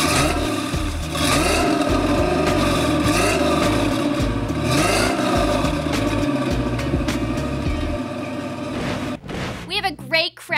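A street rod's engine revs hard at an outdoor car show, a loud, rough, throaty roar that swells and falls across repeated throttle blips. Voices talk under it, and it drops away at the end into clatter and handling noise.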